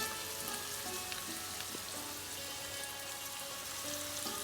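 Onions frying in a pan with salt and green chillies, a constant close sizzle dotted with fine crackling pops and faint tonal squeaks, steady throughout with no voices over it.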